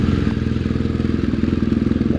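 An enduro motorcycle engine idles close by in a steady, loud rhythmic chug, with no talk over it.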